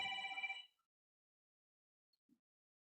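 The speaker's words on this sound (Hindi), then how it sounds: "ये फोन आके भी थोड़ा सा डिस्टर्ब हो जाता है।" A telephone rings once in a short, bright burst lasting under a second, then the room falls almost silent apart from a couple of tiny faint clicks.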